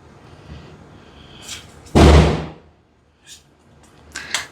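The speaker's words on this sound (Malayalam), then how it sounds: "പടക്ക ശബ്ദമാണ് കേൾക്കുന്നത്. പുറത്ത് കേൾക്കുന്നുണ്ടോ നിങ്ങൾ?" A single loud, sharp Diwali firecracker bang rings out outside and decays over about a second, followed by a few smaller pops in the distance.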